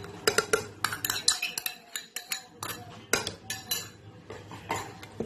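A utensil stirs gelatin into a mango tart mixture in a bowl, producing quick irregular clinks and scrapes against the dish, close and fairly light, with no talking.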